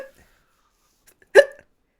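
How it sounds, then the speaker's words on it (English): A woman gives a single sharp hiccup, close and abrupt, with a short breathy tail, amid otherwise near silence. "Now she's got real hiccups."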